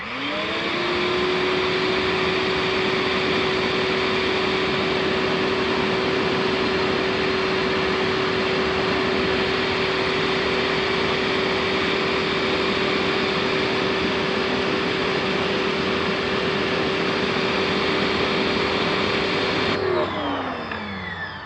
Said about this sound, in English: let's try this side view with the electric power washer